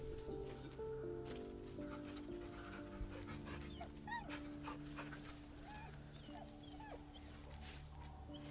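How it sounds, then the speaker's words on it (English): Scratch, a dog in a video game, whimpers and whines through a small bag held in its mouth, giving soft, repeated pitched whines over a steady background of game music. "The dog is unable to speak through the small bag he holds."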